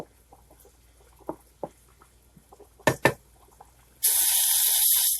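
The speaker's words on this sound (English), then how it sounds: "cooking down the chicken, the butter, the oil, and the garlic" Diced, seasoned chicken cooking in butter, oil and garlic in a pan, with scattered faint pops and ticks, a pair of sharp clatters near the middle, then a loud, steady sizzle that rises suddenly and holds to the end.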